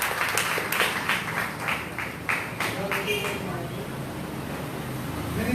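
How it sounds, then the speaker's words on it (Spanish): Church congregation applauding at a Sunday school service of an Assemblies of God assembly, a steady wash of clapping with a voice talking over it throughout. "Denle un aplauso."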